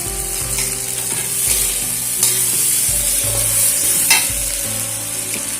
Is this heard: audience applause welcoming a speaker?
no